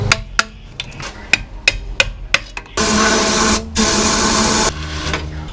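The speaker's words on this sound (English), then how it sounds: "We just gotta spray a little more brake cleaner in there and keep cleaning it out" Brake cleaner sprays into a Dana 44 axle housing in two loud, steady hissing bursts, each lasting about a second, after a run of sharp metallic taps and clanks.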